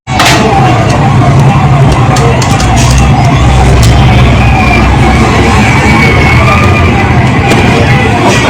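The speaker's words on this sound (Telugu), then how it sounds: "ఓ పక్కన అంబులెన్స్ ఎమర్జెన్సీ సైరన్ వేసుకొని వెళ్తోంది" An ambulance runs its emergency siren while moving through road traffic, the wail steady and loud throughout amid dense engine rumble and crowd noise.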